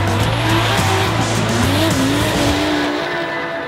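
Nissan Silvia S15 drift car during Drift Masters qualifying, engine howling at high revs with shifting pitch, continuous tyre squeal and skidding, loud and close, fading slightly at the end.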